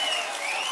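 Crowd at a Prajagalam political rally in Palamaner claps steadily and loudly, a dense, continuous wash of applause with no voices breaking through.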